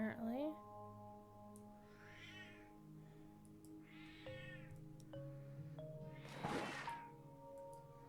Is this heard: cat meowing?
yes